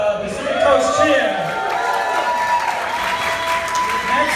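Wedding guests cheer and applaud during a reception speech, a loud sustained crowd roll of clapping and voices with whoops rising over the top.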